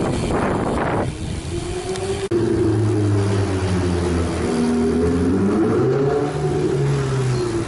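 A Ferrari engine revs in slow traffic on a coastal road, its tone rising and falling in a drawn-out sweep after a burst of wind noise, near and loud.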